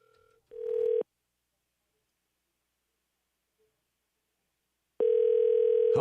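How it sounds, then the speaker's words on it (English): Telephone dial tone with a short burst of dialing on a landline call, then a long silent gap before a loud steady tone returns; no voices. "Make sure I dial this right."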